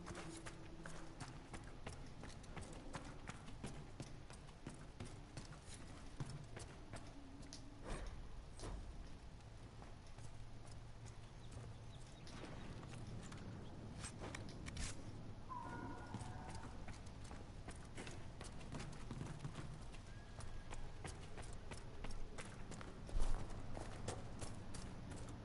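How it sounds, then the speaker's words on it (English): Horse hooves clip-clop steadily in the video game Dragon Age: Inquisition over a continuous background ambience, with occasional faint clicks and no clear speech. "you just gave me a horse"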